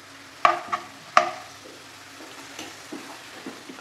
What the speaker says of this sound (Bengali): আমার অনিয়ন গার্লিক ফ্রাই হয়ে গেছে,